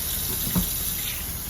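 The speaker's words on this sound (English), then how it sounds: "turning on the hot water, trying to let it get as hot as possible" Hot water running steadily from a sink tap while a sink is rinsed out, a constant close hiss and splash with one brief clunk partway through.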